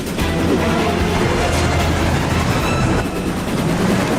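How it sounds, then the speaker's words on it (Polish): A cartoon train rumbles along its tracks toward a curve, a loud continuous rolling roar with a steady low hum and no breaks. "pociąg jest prawie na zakręcie"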